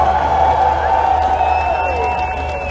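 Concert crowd at a festival show in Interlaken applauding for a band member, a steady dense roar of clapping and cheering with a held tonal hum underneath and a faint whistle partway through.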